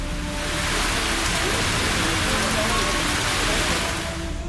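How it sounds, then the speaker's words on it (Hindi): Heavy rain pours down in Nepal, a loud, dense and unbroken hiss of falling water that stays steady from start to finish with no voices. "नेपाल में भारी बारिश है।"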